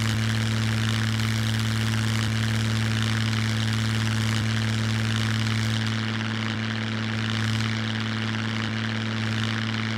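A propeller airplane engine in the Scum video game drones steadily and loudly throughout, a constant buzzing hum with no voices.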